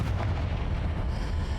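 A Confringo fire spell explodes in the Hogwarts Legacy video game, a single heavy booming blast that rolls on briefly, loud and close, with no talk over it.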